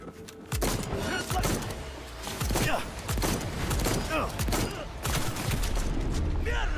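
Shotgun blasts in Cyberpunk 2077, repeated heavy booming shots over constant dense game noise and chatter, several strong hits spaced a second or so apart.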